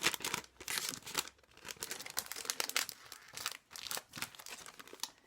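Small paper envelopes handled and slipped back inside a shabby-style mail box, giving close, crisp bursts of paper crinkling and rustling in uneven clusters with brief pauses, no voices.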